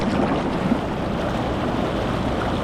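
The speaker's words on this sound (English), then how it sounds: "To do your bubbles, you press this button right here." Inflatable hot tub, a Saluspa Bahamas, with its single-speed bubble jets running at full, a steady loud broadband rush of churning, bubbling water with no talk over it.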